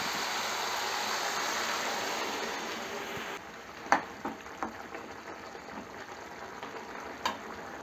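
Mutton liver masala bubbles and sizzles in a pan with water added, a soft steady frying hiss that quiets partway through, followed by a few faint clinks of utensils.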